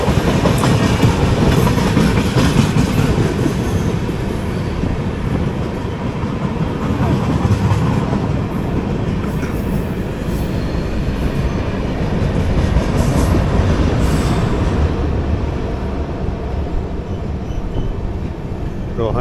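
The Jamnagar Tirunelveli Express roars past near Roha station in India, a loud sustained rumble with rhythmic clickety-clack of wheels on rail joints, close and continuous throughout.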